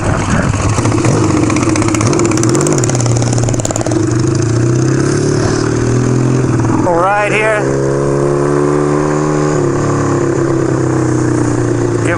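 Motorcycle engine running steadily during a ride in Tucson, a continuous loud drone with a brief rising rev partway through, heard close up along with wind.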